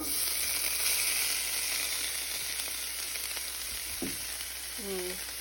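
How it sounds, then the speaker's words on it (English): Drained chili meat mixture hisses and sizzles steadily as it goes back into a hot pan, with a few stirring scrapes near the end. "now I have drained the meat mixture, and I'm just going to go ahead and add it back over here to our pan"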